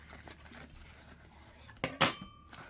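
A small wooden fork and knife set being handled, with soft rubbing followed by two sharper clinks near the end, quiet and close.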